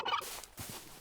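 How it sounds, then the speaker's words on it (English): A turkey gobbles in a video game, a brief rapid burbling call up close, followed by a softer second gobble, with no talk. "Turkeys!"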